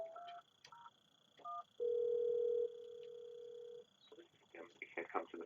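On a desk phone handset set to DND, a few short dialing beeps lead into a single long steady tone as an incoming call diverts to voicemail, followed by a voice starting to speak.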